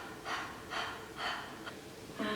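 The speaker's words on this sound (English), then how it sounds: "stick out your tongue and exhale like a puppy panting" Rhythmic panting exhales with the tongue out, like a puppy's breath: four or five short, breathy puffs at a steady pace, close and fairly soft, with no talking.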